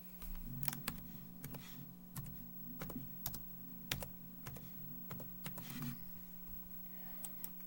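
Quiet, close keystrokes clatter on a computer keyboard in short irregular bursts, with a faint steady hum underneath and no talking.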